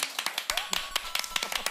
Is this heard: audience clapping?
yes